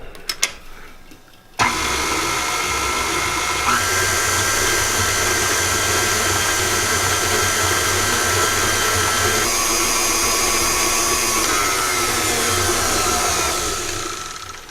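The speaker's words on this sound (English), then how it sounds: "just beat them on the mixer until they're smooth" An electric mixer beats lemon frosting made with lemon zest and heavy whipping cream. It runs as one steady, close motor whir for about thirteen seconds after a brief click at the start.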